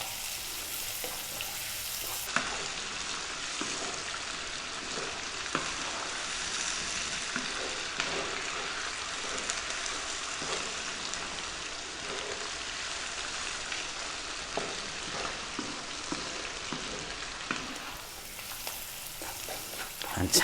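Sliced onions with salt frying over above-medium heat for dal fry, a continuous dense sizzle lasting about twenty seconds with occasional scraping as they are kept moving, a faint voice now and then beneath.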